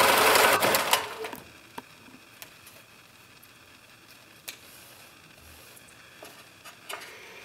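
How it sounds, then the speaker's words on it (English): A sewing machine stitches through quilt fabric around a bunny tail, a short loud run at the start giving way to faint scattered clicks and ticks in a quiet room. "Sew through the bunny tail."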